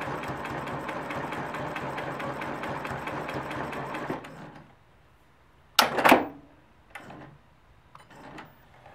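A sewing machine stitches a line on a quilt block in a fast, even run of needle strokes for about four seconds, then stops, followed by a few brief handling knocks and clicks.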